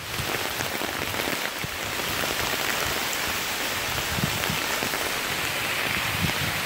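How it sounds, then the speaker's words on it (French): Heavy rain pours down on a road during a long bicycle trip, giving a loud and constant hiss with drops spattering on nearby surfaces. No voices are heard over it. "ça pleut"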